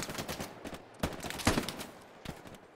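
Suppressing gunfire in the WWII shooter game Hell Let Loose: repeated close gunshots and bursts crack through a constant battle din, with sharper, louder blasts at intervals.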